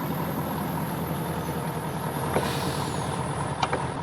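A truck in Farming Simulator 19 rumbles at low speed with its engine droning steadily, while a couple of short hissing air brake releases sound briefly near the end.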